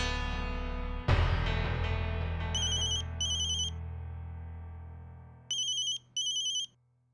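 A telephone ringtone sounds in two pairs of short, bright electronic ringing bursts over a fading musical tone, with no voices.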